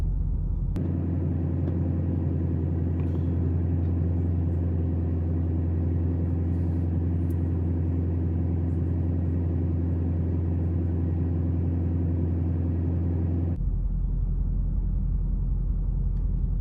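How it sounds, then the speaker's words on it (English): A big truck's engine idles while waiting, giving a steady, loud low rumble that continues without a break for most of the stretch, then shifts abruptly near the end. "Just a big truck waiting for you to move."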